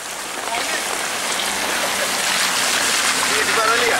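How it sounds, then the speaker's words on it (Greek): Heavy rain pours down during floods in Lagkada, Greece, a loud dense steady hiss of water on surfaces that swells slightly and continues throughout. "Βρέχει."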